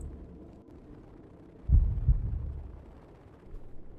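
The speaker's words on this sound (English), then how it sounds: "And pick up the object making the heartbeat." A heartbeat throbs from an object in a moth-filled bathroom in the video game The Moth Inside Me, two deep thumps landing close together midway over a low ambient hum.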